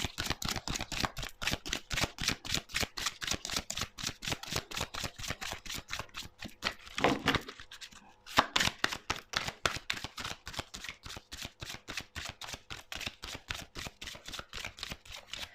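Oracle cards are shuffled in a rapid, crisp rhythm of quiet riffling clicks, close and soft, with a brief pause midway before the steady shuffling resumes.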